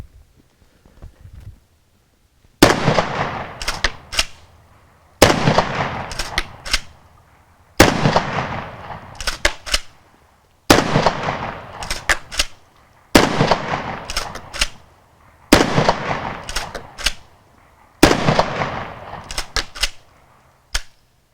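A Kel-Tec KSG pump shotgun fires buckshot and slugs outdoors, eight loud sharp blasts spaced about two and a half seconds apart, each followed by a short echoing tail and mechanical clatter.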